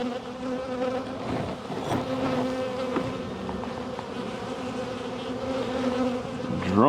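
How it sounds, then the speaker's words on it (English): Honeybees hum in a dense, steady drone close by during a spring hive inspection, with single insects buzzing louder for a moment as they pass near, and no talk. "All the bees look really healthy."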